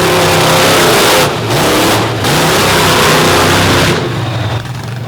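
Brad Shippert's truck at an Illinois overdrive event, its engine roaring loud and close with sustained revving, dropping off briefly twice before surging again and easing slightly at the end.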